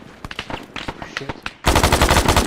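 Rapid automatic gunfire in the Arma 3 Antistasi mod, sparse shots and voice at first, then a sustained loud burst of continuous fire filling the final second.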